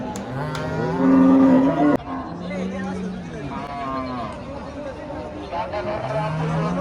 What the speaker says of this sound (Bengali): হাটে এখন গরু দেখতেছি আমার।